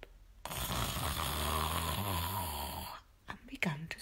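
A voice imitates a long drawn-out snore, loud and close, followed by a short spoken bit.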